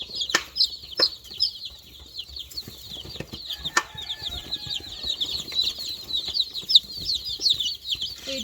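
Two-day-old baby chicks cheep in a steady stream of high, rapid peeps, with a few louder isolated knocks or taps near the start.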